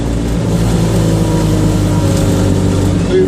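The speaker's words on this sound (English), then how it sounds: "The exhaust is much simplified and a much larger bore than standard." A Citroen 2CV race car with a simplified, large-bore exhaust gives a loud, constant engine drone with a deep exhaust rumble, heard from close by on the road without pause.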